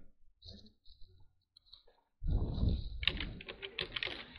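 Keys clatter on a computer keyboard as an npm install command is typed, starting with a few sparse light taps, then becoming a dense burst of rapid clicking and clacking. The typing sounds close and moderately loud.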